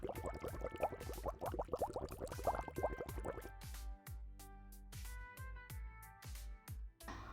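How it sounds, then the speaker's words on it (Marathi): Sugar syrup for almond sheera bubbling in a pan, with dense popping and bursting bubbles at first, then sparser, slower plops and drips, close and quiet with no talking. "या पाकाला छान उकळी आलेली आहे."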